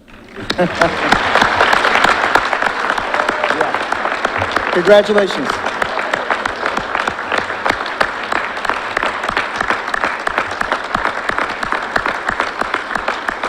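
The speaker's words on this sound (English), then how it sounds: "this seems like a good time to applaud, doesn't it?" A crowd at a fire recruit class graduation ceremony breaks into loud, sustained applause that keeps going evenly, with a speaker's voice briefly heard over the clapping.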